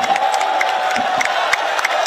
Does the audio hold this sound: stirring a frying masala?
no